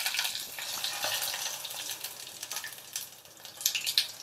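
Curry leaves hit hot oil already holding mustard seeds and cumin, giving a close, steady sizzle with sharp spitting crackles that swell near the end.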